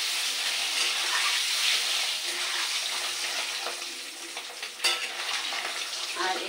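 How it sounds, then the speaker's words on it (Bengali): Eggs coated in salt and turmeric fry in hot oil in a wok, giving a steady, close, bright sizzle with faint stirring scrapes and a sharper crackle burst near the end, no voices. "ডিমগুলোকে কড়াইতে দিয়ে"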